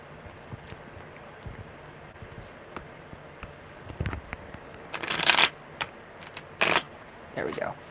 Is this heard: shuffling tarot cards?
yes